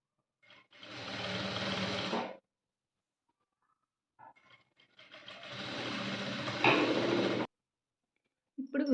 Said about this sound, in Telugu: కుట్టు వేసేస్తున్నాను.